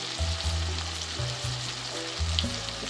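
Tomatoes cooking in a pan for moong daal, a steady loud sizzle and fry with occasional stirring, continuous and close with no talk.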